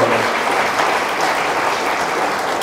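Sustained applause from a crowd at a Liberty Korea Party regional committee chairs' joint meeting, honoring the journalists; dense, steady clapping throughout, fairly loud and close.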